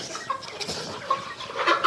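Domestic deshi chickens eating rice at a farm pen, giving soft close clucks and pecking noises in short irregular bursts.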